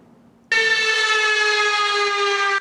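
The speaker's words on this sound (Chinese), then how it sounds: "一早起警报大响" A warning siren blares during a typhoon with torrential rain in Hualien, starting abruptly after half a second of near silence and holding a loud, steady multi-tone wail to the end.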